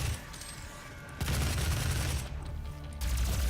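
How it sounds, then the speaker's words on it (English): Rapid gunfire in the Doom 2016 video game, a dense, loud run of shots that grows heavier after a moment and keeps going with brief dips. "it makes your guns fire much faster"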